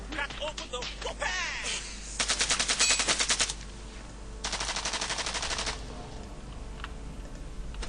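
Rapid bursts of automatic gunfire from the video game Evil Genius rattle out in two long volleys with short quieter gaps between them, accompanied by brief game effects at the start.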